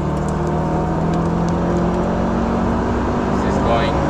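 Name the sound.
Lola-Chevy race car driving up the front straight at Laguna Seca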